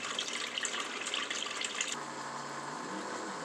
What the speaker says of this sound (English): it's just finishing up the drain cycle, as you can hear the motor